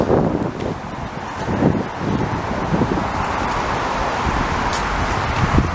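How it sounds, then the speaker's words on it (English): Steady wind buffets the camera microphone throughout during an outdoor walk on a city street in Montreal's Plateau Mont-Royal, a continuous broadband rumble with gusty swells and no clear talk. "now the wind's blowing towards the camera"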